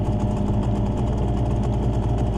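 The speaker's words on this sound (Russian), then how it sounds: "Мотор работает, не заглох." A Suzuki 9.9A/DT15A outboard motor runs during break-in on a river, a steady, close, mid-low droning hum with an even pulsing texture and no pauses.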